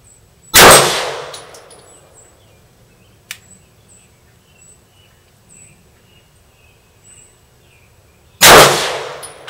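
Two sharp, loud gunshots from an HK P30L pistol fired slowly at an 18-inch target outdoors, spaced about eight seconds apart, each with a ringing decay, a faint click between and insects chirping in the background.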